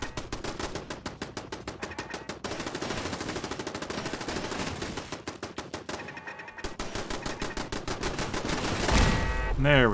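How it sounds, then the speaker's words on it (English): Automated turrets fire in the video game Fallout 4, rapid machine-gun bursts rattling in long continuous volleys with brief pauses, loud and close, ending in a swell of other game noise. "The turrets did the shooting."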